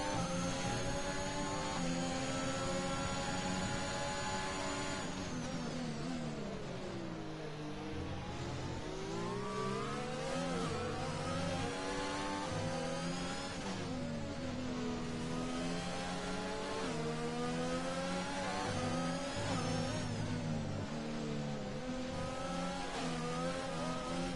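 Race cars in a racing video game at the Spanish Grand Prix, a continuous loud engine drone with rising and falling revs as the field runs closely together, steady with no talk.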